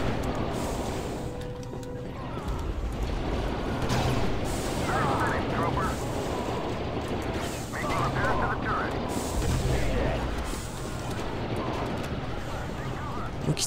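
Gunfire and heavy blasts in the Star Wars Battlefront video game, a dense, continuous barrage of booming shots and explosions that fills the whole stretch, with voices talking over the battle.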